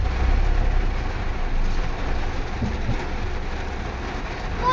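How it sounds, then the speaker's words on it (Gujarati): Dense, steady roar of heavy rain pouring down without a break, with a low rumble underneath and no voices. "ધોધમાર વરસાદ ચાલુ થઈ ગયો હવે."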